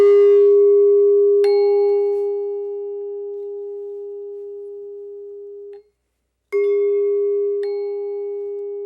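Two Balinese gamelan tones struck an octave apart ring together, producing a slow, steady beating as they decay; a second strike follows after a brief silence, clear and close with no talking.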